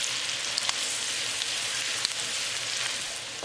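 Garlic and green chili fry in a pan, a steady close hissing sizzle with a few small pops and crackles, continuous and fairly quiet, with no voices.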